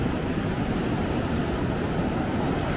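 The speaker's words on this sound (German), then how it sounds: "So, und hier kommt die Welle wieder zurück." Continuous broadband rush of ocean waves washing and meeting at the shore, steady and fairly loud with no distinct breaks or voices.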